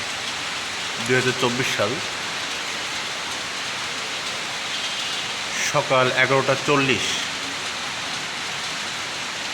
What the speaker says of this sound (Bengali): চমৎকার বৃষ্টি হচ্ছে খুলনা সিটিতে।